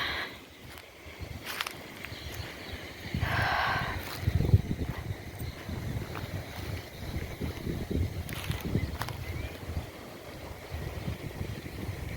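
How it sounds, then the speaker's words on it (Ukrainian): Wind rushes and gusts outdoors between trees with low rumbling buffeting and a few brief rustling noises, with no speech. "Ніяк не хоче вітер заспокоюватися"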